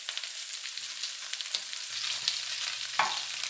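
Chopped ginger and garlic browning in a hot pan, a steady close sizzle with a few scraping stirs, no voices.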